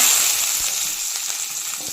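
Hot oil heating in a pan before dried fish goes in gives a short, steady, close sizzle with faint crackles and no speech.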